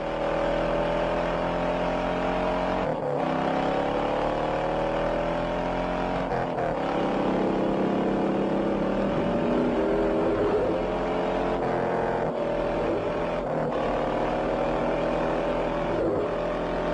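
A Mustang chases a Dodge Charger at high speed through San Francisco streets, its engine roaring loud and continuous with rising and falling revs and a few brief cuts.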